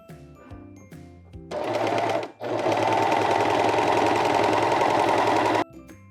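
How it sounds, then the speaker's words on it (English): A serger runs steadily while sewing a lettuce rolled hem along stretchy fabric edge, a loud continuous mechanical whir lasting several seconds with a brief dip midway, framed by quieter handling clicks at start and end. "So to start this lettuce rolled hem, we just place it in here, line it up where you need to on your serger, and let's go."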